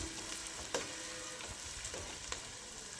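Onions sizzle steadily in hot oil for a Rayalaseema fish curry, a close crackling fry with a few soft clicks from stirring.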